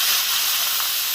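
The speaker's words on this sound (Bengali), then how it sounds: "এবার দিয়ে দিচ্ছি কেটে রাখা আলু আর বেগুন।" Cut potatoes and eggplant drop into hot oil already seasoned with dried red chillies and whole cumin, giving a steady, loud, close sizzling hiss that holds evenly throughout with no talk.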